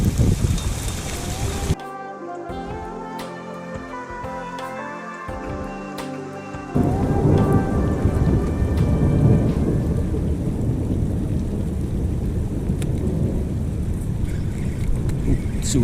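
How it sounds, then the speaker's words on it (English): Heavy rain falls on a fishing jetty at Bedok, Singapore, as a loud, broad, continuous roar. A quieter stretch in the middle carries a low tonal hum before the downpour swells back. "rain is coming down hard"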